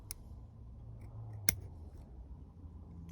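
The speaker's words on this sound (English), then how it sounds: "there's this little tiny branch that I think I'm going to trim off." Pruning shears snip a small branch on a Chinese elm bonsai, one crisp sharp cut in the middle of a quiet room, with a faint click just before.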